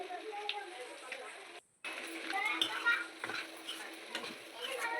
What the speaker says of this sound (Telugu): తగినంత ఉప్పు తగినంత కారం వేసుకొని మళ్ళీ మంచిగా కలుపుకోవాలి